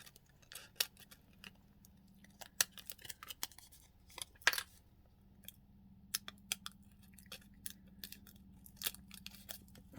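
Scissors snip paper for a junk journal, a quiet, irregular series of sharp little cuts and clicks close up, with short pauses between bursts and no talking.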